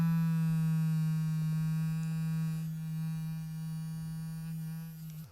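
A battery-powered electric toothbrush runs continuously with a steady, close buzzing hum, then cuts off abruptly at the end.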